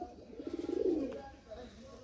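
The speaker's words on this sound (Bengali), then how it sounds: "এটা রেসের পায়রা, 10 ঘন্টা" A racing pigeon coos in a low, rolling burst that swells and then fades, heard close and fairly faint with some background noise.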